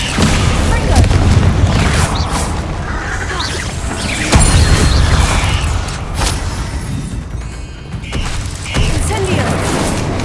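Spell effects from Hogwarts Legacy, including the fire spell Incendio, crackle and boom in a dense, continuous run of magical combat, with several sharp impacts over a steady roar.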